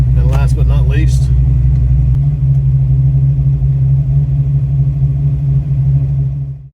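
A Fox Body Mustang with FlowMaster Original 40 mufflers gives a deep, steady exhaust rumble at idle, loud and close, with a brief voice over it at the start before the drone fades out.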